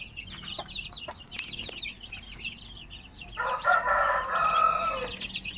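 Hens cluck and crow nearby in overlapping bursts, growing louder and busier toward the end, with no talking.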